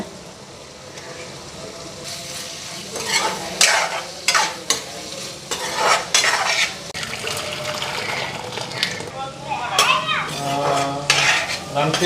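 Dried fish sizzles in a hot pan while being stirred, with a steady frying hiss broken by repeated scrapes and clinks of a metal utensil against the pan, close up and without speech.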